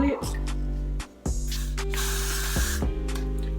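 Repeated short bursts of aerosol spray on a wig, about six hissing puffs of varying length with brief pauses, close and fairly loud, no talk.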